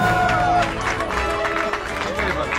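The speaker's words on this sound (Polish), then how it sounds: "I za to wielkie brawa!" An audience at a live coffee-selling event breaks into loud, dense applause and cheering that fills the space and continues throughout, with voices mixed into the crowd noise.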